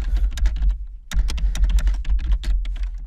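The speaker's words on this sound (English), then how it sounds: "I can't talk and type at the same time." Rapid, irregular keystrokes clatter on a computer keyboard at close range, with one short pause before the typing resumes, and no speech.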